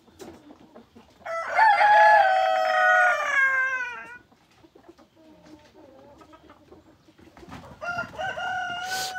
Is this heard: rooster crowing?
yes